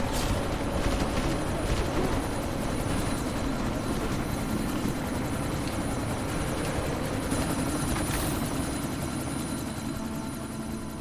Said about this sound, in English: We are going to the chopper, which is there.